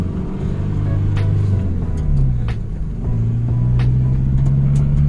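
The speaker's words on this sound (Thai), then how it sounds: "มาเดี๋ยวมาทดลองขับขี่กันนะครับ แต่คันเร่งดีนะบูทบูทเลยนะครับ" A used Isuzu D-Max Gold Series pickup truck accelerating on a test drive, with a loud, close engine drone rising through the gears and a few faint clicks over the steady rumble.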